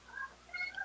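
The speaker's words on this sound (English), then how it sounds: "that's a cat" A cat gives two short, soft meows close by against a quiet background hum.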